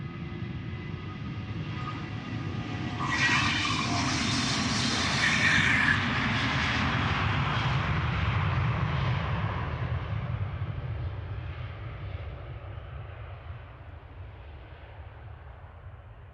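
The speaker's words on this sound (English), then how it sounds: "KLM flight 1143. Keeping a nice tempo in the departures." KLM flight 1143 departing Amsterdam Schiphol Airport, a loud jet engine roar with a rising whine that peaks midway and then slowly fades as the aircraft pulls away, no talking.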